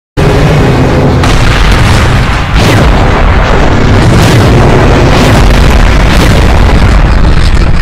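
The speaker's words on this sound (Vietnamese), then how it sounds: "có bom ở đâu bay đến thế kia?" A bomb explodes in a Skibidi Toilet animation: a loud, sustained booming blast with deep rumbling that fills the whole stretch without letup.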